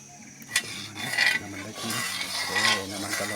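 Fermented sour fish (pla som) fries in a pan for a border soldiers' home meal, a soft sizzle under scraping utensil and clinking pan sounds, with a voice talking faintly.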